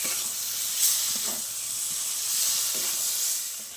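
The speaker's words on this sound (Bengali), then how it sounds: "পটলটা একটু ভালো করে মশলার সাথে মেখে নেবো, মিশিয়ে নেবো এইভাবে।" Fried pointed gourd pieces are stirred into a sizzling spice paste, giving a soft, steady hiss with faint scraping bursts of stirring, fairly quiet and close, with no voice.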